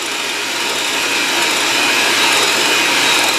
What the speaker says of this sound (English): now we beat it for 5 to 10 minutes so it gets nice and foamy with stiff peaks